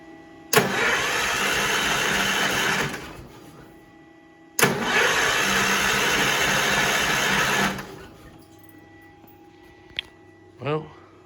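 An Allis Chalmers tractor engine, on its first run after a head gasket replacement with the choke fully in, cranks loudly in two long bursts of several seconds each separated by a pause, then falls quiet apart from a couple of brief knocks.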